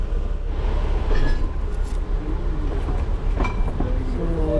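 The Darjeeling Himalayan Railway toy train reverses at a Z point in the Himalayas, its carriages rumbling with a loud, continuous low clatter and occasional metallic clinks, up close.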